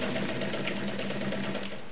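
A retro green-and-cream heavy duty Dressmaker sewing machine runs steadily, stitching through four layers of woven upholstery with rubber backing, a continuous close mechanical whir with no pauses.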